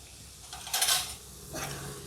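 Utensil stirring aloo methi sabji, a potato and fenugreek leaf curry, in a pan, with a loud scraping burst near the middle and a softer one near the end over a low background.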